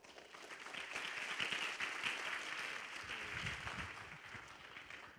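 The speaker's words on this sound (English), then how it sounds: "So let's give him a round of applause." Audience at a conference session on healthy workplace environments clapping in a steady round of applause, moderately quiet and even, swelling slightly before tapering off near the end.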